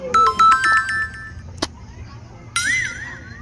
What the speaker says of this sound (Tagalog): Uy, na may nanawag.